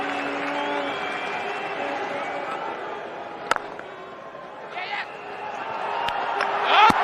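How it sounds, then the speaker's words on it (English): An English crowd at a cricket match on a cold day, the ICC Champions Trophy 2004 final between England and West Indies, gives sustained applause and murmuring cheers, steady and broad under a commentator's voice, with a few sharper claps and calls rising near the end. "And the crowd, the English crowd, have come out a cold day and appreciated him."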